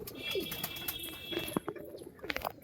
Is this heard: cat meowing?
no